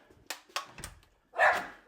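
Dogs in a home kitchen give a few short, sharp yips followed by a louder, fuller bark, all close by and heard alone without talk.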